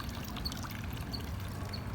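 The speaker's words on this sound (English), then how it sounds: "We do have a lovely little pond, a little water feature." A small garden pond water feature trickles and splashes softly in a residential backyard, a faint continuous burble with light droplet patter and no voices.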